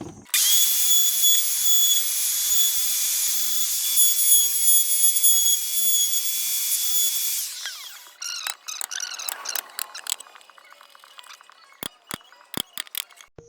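A power router cuts a hinge groove into a wooden cabinet door, a loud steady high whine that runs for about seven seconds and then stops, followed by a string of sharp clicks and scraping taps.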